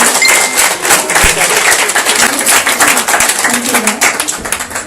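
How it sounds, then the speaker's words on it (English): Warm applause from an audience honoring Dr. Paul Cox at a speaking event, a dense, steady wash of many hands clapping close and loud throughout, with voices mixed in underneath. "let's give a warm applause for Dr. Paul Cox"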